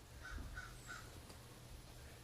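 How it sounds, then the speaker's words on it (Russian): A crow caws outdoors in three quick, evenly spaced calls, faint and distant over a low ambient hum. "that crazy crow outside, making noise all the time"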